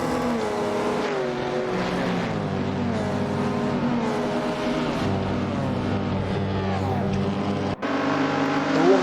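Mustang and Cortina saloon racing cars in Assetto Corsa roar continuously at close range, their engines revving and shifting pitch together through the corners, with a brief dip near the end.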